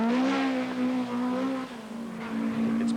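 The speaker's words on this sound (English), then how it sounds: "Ken McKinstry's Nissan 240 RS, who's jumping in fine style" Nissan 240 RS rally car at the 1982 Ulster rally, its engine droning steadily with rising and falling revs as it passes, loud and fairly close, fading slightly midway then swelling again.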